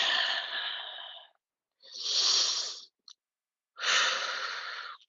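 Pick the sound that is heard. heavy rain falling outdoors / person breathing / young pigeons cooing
person breathing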